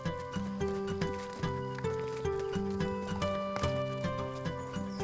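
Horses walking on a guided trail ride, their hooves striking in a steady rhythm with harness jingling. The hoof sounds are close and carry on without talk, over a layered ambient background.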